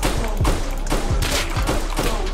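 Video game gunfire on city streets in Brooklyn, with repeated close, punchy shots about every half second over a dense background rumble and no speech.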